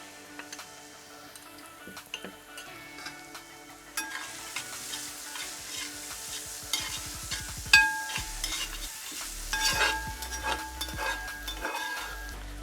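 Sliced onions with turmeric powder, cooked for a Kerala duck roast, sizzle quietly in a pan while a spoon scrapes and stirs in irregular strokes that grow busier and louder.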